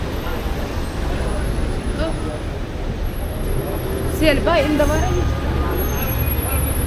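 Ride aboard a double-decker tour bus moving through Istanbul traffic, with a steady road rumble and engine drone throughout, a brief hiss and squeal near the middle, and faint background chatter.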